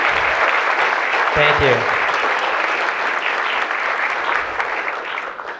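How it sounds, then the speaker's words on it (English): Audience at an ELAD event breaks into sustained, dense applause filling the room, with a brief spoken thanks near the start and the clapping holding steady before easing slightly. "let's just give them a big round of applause as well"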